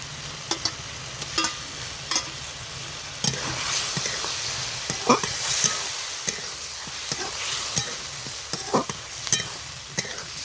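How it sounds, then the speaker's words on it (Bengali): Quiet sizzling of a fish head frying in spice paste in a pan, under repeated sharp scrapes and taps of a spatula stirring, irregularly spaced throughout. "মশলা কষার পর মাছের মাথা দিয়েছি একইভাবে মাথাটাও কষে নিয়েছি কষা মশলা"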